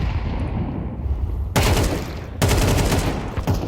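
AK rifle fire in the video game Counter-Strike 2, two sharp bursts of rapid shots starting suddenly, loud and close, set against an ongoing background of game ambience.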